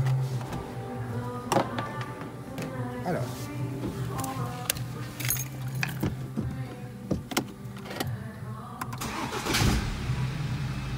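A car engine cranks and starts after software reprogramming at a garage, settling into a steady idle with clicks and mechanical noises near the microphone.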